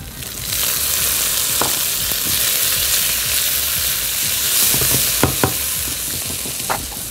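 Tomatoes fry and sizzle in a hot pan with cumin, coriander and garlic, a steady bright hiss broken by a few close stirring scrapes and clicks.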